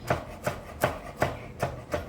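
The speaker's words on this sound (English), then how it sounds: "We need about a half a cup of chopped parsley." A knife chops flat-leaf parsley on a cutting board in six evenly spaced, crisp thuds about a third of a second apart, close and loud with no voices.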